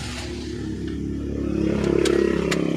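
A car engine cranks and catches after engine repair work and an ignition coil check, rising into a steady, loud close idle with a few clattering knocks near the end.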